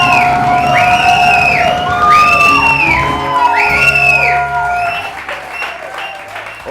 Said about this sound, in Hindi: बहुत सारी तालियां साहिल लोधी के लिए.